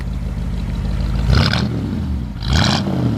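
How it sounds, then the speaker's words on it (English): Idling V8 of a 1959 Ford Galaxie 500 Skyliner with dual exhaust, a steady low rumble throughout with two brief louder bursts of revving, heard close up with no talking. "It's got nice dual exhaust."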